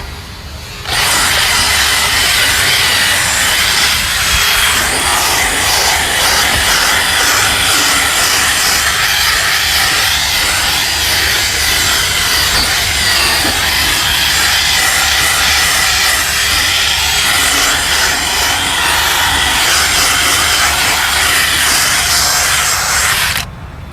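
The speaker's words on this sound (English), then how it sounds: "I just hold my breath while I drill brush" A loud, steady drill brush whir runs almost nonstop while scrubbing a speaker, a harsh buzzing drone with scrubbing texture, very close, starting and stopping abruptly.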